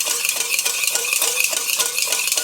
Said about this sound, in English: I guess I hadn't whisked it enough. Okay, keep whisking, girl.